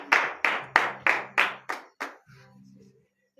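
Congregation at a morning prayer service clapping in acclamation: seven sharp, evenly spaced claps in unison, close and loud, fading slightly toward the end, then a low hum and near silence.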